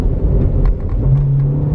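High-mileage, beat-up Volkswagen Jetta TDI wagon diesel accelerating through the gears, a loud close low engine rumble from inside the car with a rising tone, short and continuous.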